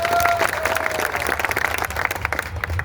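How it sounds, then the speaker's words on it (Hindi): An audience at an outdoor political gathering in India claps to welcome a member of parliament, dense and loud applause running continuously with a faint tone at the start. "ताली बजाकर हमारे नेता का, हमारे एमपी साहब का, हमारे नेता अरुण भारती जी का स्वागत अभिनंदन कीजिए।"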